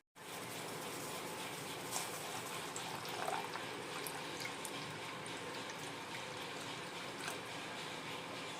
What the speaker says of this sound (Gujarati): બસ હવે ઉકળવા દઈએ